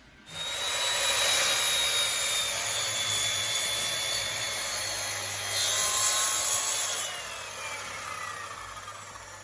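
A power saw cutting a wooden board in two for a sunflower planter, a loud sustained high-pitched whine that starts abruptly, holds steady while biting through the wood, then eases off near the end.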